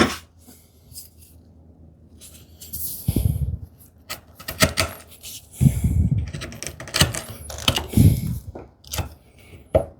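A hand tool pares thin shavings from a wooden shoe tidy, giving several short, sharp scraping cuts in irregular bursts, close and fairly loud, with quiet gaps between strokes.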